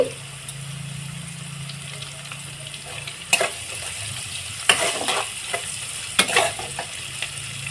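Curry leaves and chopped green chilies fry in a pan for a chow-style dish, a steady near sizzle broken by a few sharp bursts of stirring and clatter.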